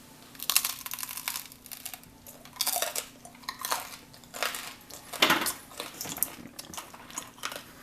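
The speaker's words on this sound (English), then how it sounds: "this is the sound of me chewing on it" Chewing on hard, dense homemade bread made from just flour and water, close and crunchy, with irregular bursts of cracking bites separated by short pauses.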